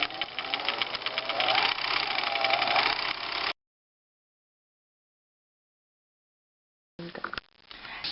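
A sewing machine stitching quilt binding, a close mechanical hum for a few seconds, then a long gap of silence before a short final burst of stitching.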